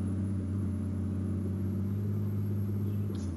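A truck engine strains in Euro Truck Simulator 2 with a steady, loud, low drone that holds unchanged throughout, with no talk.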